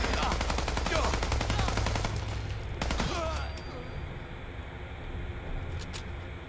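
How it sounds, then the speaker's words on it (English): Unsilenced gunfire in the video game Fallout 4: a loud, rapid stream of automatic shots fills the first few seconds, then a few scattered reports over quieter game ambience. "There's no silencer on this gun"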